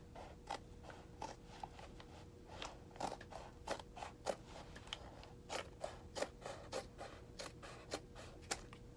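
Scissors snipping through paper tape wrapped on a body to make a dress form, a quiet series of close, crisp cuts in an irregular rhythm over faint background hum.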